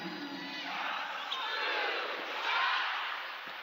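A home crowd in a WNBA basketball arena, Dream versus Aces, yells and cheers in a broad, swelling roar that rises and falls, distant and reverberant, with a faint voice underneath.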